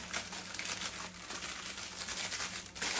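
A plastic treat bag crinkles and rustles continuously up close, a steady crumpling sound with no talk.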